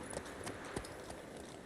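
Horse hooves clip-clop in The Witcher 3, a few soft, irregular steps set against a steady ambient wash in the Blood and Wine expansion's Toussaint region.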